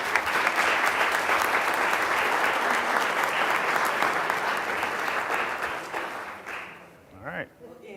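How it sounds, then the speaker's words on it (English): A crowd applauds neighborhood association members, a loud, dense round of clapping that holds steady for several seconds before fading out, followed by a voice speaking briefly at the close. "Can we please clap it up for these incredible folks?"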